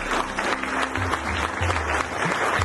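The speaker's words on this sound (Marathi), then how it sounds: "या जमलेल्या पालकांसाठी एकदा जोरदार टाळ्या होऊन जाऊ" Steady applause from an assembled audience of parents and guests at a medical college white coat ceremony, dense clapping holding at an even level throughout with no voices on top.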